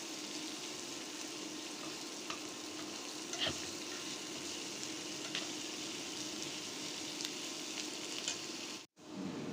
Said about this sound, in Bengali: পেঁয়াজগুলো নেড়ে চেড়ে গোল্ডেন ব্রাউন করে ভেজে নিব।